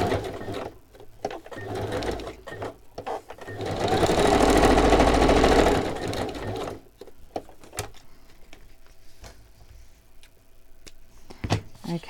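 A sewing machine stitching through paper ephemera runs in one steady, loud whirring burst of a couple of seconds, framed by quieter handling clicks, taps and rustles before and after.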